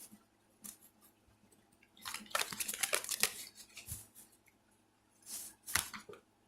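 Tarot cards are shuffled by hand in a few crisp riffling bursts, close and quiet, separated by soft rustles and pauses.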